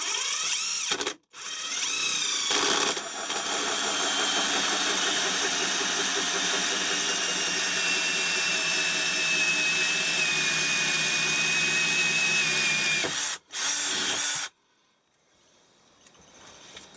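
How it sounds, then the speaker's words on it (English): A power drill or punch runs almost nonstop for about twelve seconds, loud and close, as a hole is made in a panel for a Glow Shift fuel pressure gauge, with brief pauses near the start and end. "just punching a hole in there for the gauge, and then possibly drilling the other ones"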